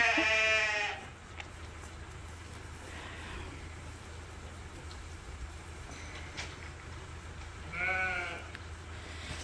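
Rams on a sheep farm let out two loud, wavering bleats, one at the start and one near the end, with a quieter stretch of steady low background hum between them.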